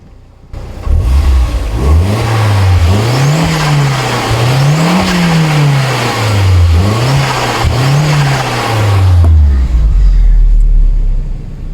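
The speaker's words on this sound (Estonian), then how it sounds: "kuulake, kuidas see auto turbovilinat teeb" An Audi TT mk1 turbo accelerating loudly up close through several gears, its engine note climbing and dropping repeatedly with turbo flutter between shifts before easing off.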